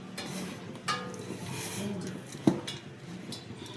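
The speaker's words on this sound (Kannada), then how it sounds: "ಹಾಕಿ ಚೆನ್ನಾಗಿ ಮಿಕ್ಸ್ ಮಾಡ್ಕೊಳ್ಳೋಣ" Cashews being stirred with Kashmiri chilli powder in a bowl, soft scraping and clinking of a spoon against the dish with a couple of sharper clinks, faint and close, no talking.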